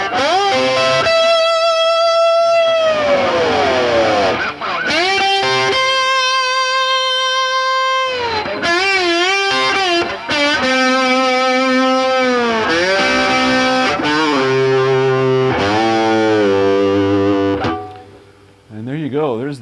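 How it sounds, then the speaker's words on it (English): Sliding, gliding slide guitar notes with heavy distortion, pitch bending smoothly up and down in sustained phrases, played alone and loud. "that's pretty much it for the slide guitar"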